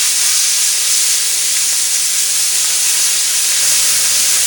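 Beef short ribs searing in a hot pot give off a loud, steady, unbroken sizzle with a bright hiss throughout.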